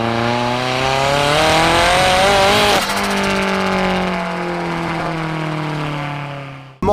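A Toyota AE86 with a swapped SR20 turbo engine revs hard and close, a loud sustained tone that rises, dips briefly near three seconds, then holds a high steady pitch before cutting off abruptly.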